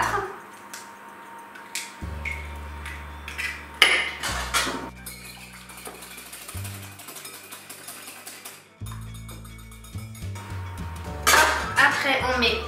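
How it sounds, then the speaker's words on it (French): An egg is beaten in a salad bowl for a donut batter, giving rapid clinking of a utensil against the bowl in uneven bursts. Background music plays throughout. "On reprend notre saladier, on va mettre notre œuf, on va battre"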